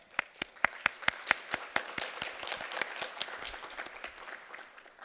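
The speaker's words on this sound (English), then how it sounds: "Let us extend our sincere appreciation with another round of applause as he departs." Audience applause at the International Forum for Trilateral Cooperation, starting with a few sharp individual claps that quickly swell into a dense, sustained round of clapping from a large crowd in a hall.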